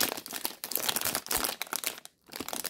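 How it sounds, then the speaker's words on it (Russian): Protein brownie packaging, a Bombbar wrapper, crinkles and crunches as it is torn open close by, with a steady run of dense plastic rustling and a brief pause near the end. "О, упаковка, кстати, легко открывается."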